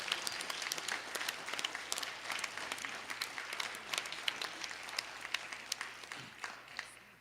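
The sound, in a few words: audience clapping for the moms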